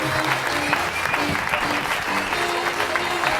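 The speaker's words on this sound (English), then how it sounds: "Give our stars on stage a huge round of applause." Audience applause at a stage hypnosis show, a dense, steady clapping from a sizeable crowd sustained throughout, with a faint voice or two buried in it.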